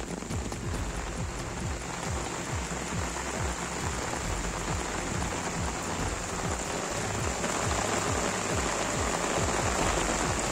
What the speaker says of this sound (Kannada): ಇನ್ನು ಚಾಮರಾಜನಗರ ಹಾಗೂ ಗುಂಡ್ಲುಪೇಟೆ ಭಾಗದ ಹಲವೆಡೆ ಭಾರೀ ಮಳೆಯಾಗಿದೆ.